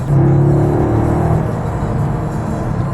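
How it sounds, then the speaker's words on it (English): Car switched into sports mode, with an artificial engine note played through its speakers: a steady, fairly loud low hum and whir with faint rising tones, continuous and without talking. "It's got that fake sound through the speakers that some of these manufacturers continuously are doing now."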